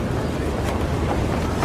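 Strong wind buffets steadily and loudly at a height of about 243 metres on a New York skyscraper construction site. It sounds as a dense, continuous roar of gusts with no voices.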